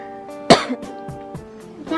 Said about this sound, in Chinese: 好像咳嗽。